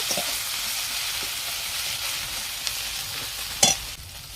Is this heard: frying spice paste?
yes